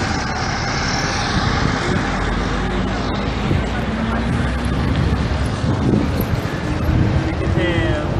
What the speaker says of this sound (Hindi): बड़ी तेज हवा चल रही है